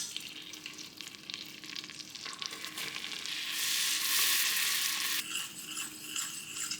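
Butter and flour sizzle and fry in a pan for a dill meat sauce, a soft steady crackle that swells louder for a moment as the mixture is stirred, close by.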